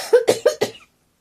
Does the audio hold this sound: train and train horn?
no